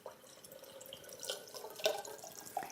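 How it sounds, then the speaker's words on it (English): Water runs into a gallon jug packed with beets, a faint trickling and dripping with small splashy plops rising toward the end, heard up close in a quiet kitchen. "And that's about all you have to do, is fill this with water."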